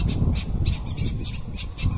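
At a farm pond, a bird gives a rapid series of harsh squawks in regular bursts, fairly close, over a rough low rumble of wind or movement.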